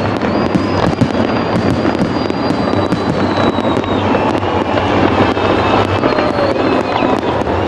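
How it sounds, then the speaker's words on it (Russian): Festive fireworks display closing an evening concert in Ivanovo, Russia, with a rapid, continuous barrage of sharp bangs and crackles and occasional rising whistles, loud and sustained. "По традиции завершил вечер праздничный фейерверк."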